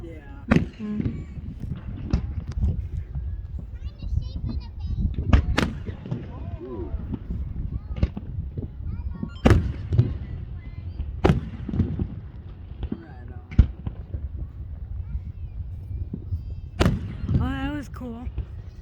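Fourth of July fireworks show at a municipal airport, with sharp distant bangs and booming bursts at irregular intervals over a steady background of crowd noise and nearby people chatting.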